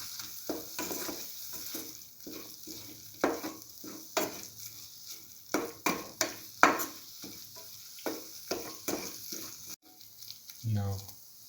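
A spatula stirs and scrapes scrambled egg and coconut in a frying pan as it sizzles softly, with repeated irregular clinks and scrapes over a faint constant hiss, quiet and close.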